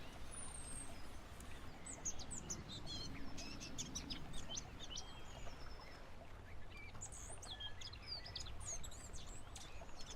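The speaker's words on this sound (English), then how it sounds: "hopefully you were able to hear the birds chirping there in the water" Birds chirping by water in the Farming Simulator 17 video game's West Coast map, with repeated short tweets and calls scattered over a quiet ambient background, fairly faint throughout.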